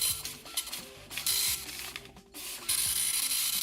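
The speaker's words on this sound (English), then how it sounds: "That's a dot matrix printer sound." A colour dot matrix printer at work, giving rapid buzzing, ratcheting bursts of print-head strikes broken by short pauses, with louder stretches near the start and end and no voices.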